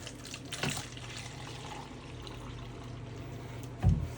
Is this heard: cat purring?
no